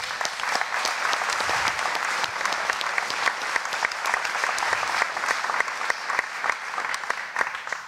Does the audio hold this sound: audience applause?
yes